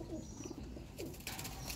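A Teddy pigeon coos softly in a few low, quiet murmurs over a faint background, with a brief rustle partway through.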